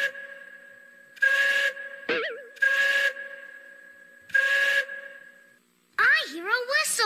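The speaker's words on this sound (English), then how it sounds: "I hear a whistle." A train whistle blows in several separate steady blasts with short gaps between them, loud and close, with a brief warbling tone in the middle and more wavering whistle sounds at the end.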